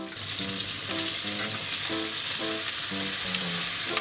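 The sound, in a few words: frying green onions and shishito peppers in a pan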